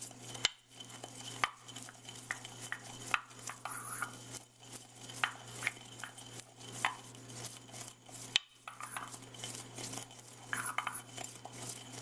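Whole fennel seeds being crushed in a mortar and pestle give faint, irregular gritty clicks and scrapes, quiet and close, with a low steady hum underneath and no talking.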